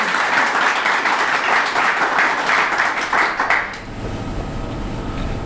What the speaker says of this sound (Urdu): آئیے خدا ان کے لیے زوردار تالی